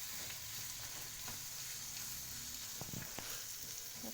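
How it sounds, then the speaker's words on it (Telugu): Chili powder fries quietly in a pan, giving a faint, steady sizzling hiss with a few soft stirring taps near the end. "కారం మగ్గే వరకు వేయించుకుందాం."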